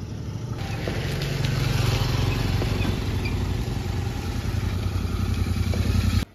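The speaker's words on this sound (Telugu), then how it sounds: "ఇగో బండి అయితే వచ్చేసింది." A Royal Enfield GT650 motorcycle engine rumbles steadily close by on a ride, a continuous low throb with no speech over it.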